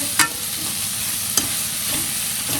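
Cauliflower and potato pieces fry in oil in a pan for a Gujarati sabji, giving a steady sizzle broken by a few sharp scrapes of a stirring spoon.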